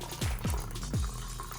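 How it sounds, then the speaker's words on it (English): Hot coffee is poured into a glass for an Irish coffee, a close liquid stream with gurgling, glugging surges that repeat in quick succession before settling into a steady trickle. "So we're just going to pour our coffee"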